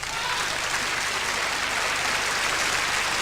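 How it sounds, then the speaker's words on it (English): A large audience at the Eurovision Song Contest 1983 applauds with continuous, dense clapping that stays even and loud for the whole stretch, with no voices standing out. "Everybody's getting a round of applause."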